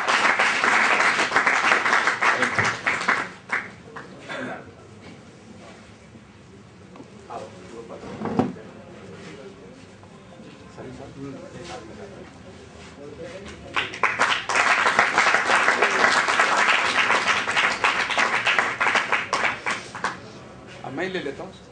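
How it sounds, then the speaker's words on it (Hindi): An audience claps at a ceremony, with a burst of loud applause at the start, a quieter stretch with a person talking, and a second sustained round of clapping later. "ताली डबल बजाओ"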